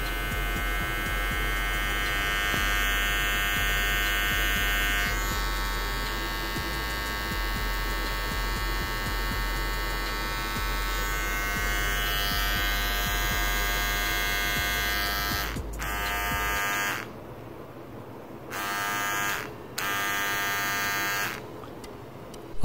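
A Nova NHC-3662 corded electric hair trimmer, adjustment comb removed, buzzes steadily with a constant high-pitched hum, cutting out near the end and briefly starting again, close and loud.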